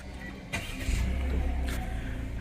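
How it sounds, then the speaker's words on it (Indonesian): A Toyota Roomy's 3-cylinder engine fires up from the push start button, a short crank followed by a quick rev and then a smooth, steady idle, close and clear with no talking. "tekan engine start button di sebelah kanan sini untuk menyalakan mesinnya."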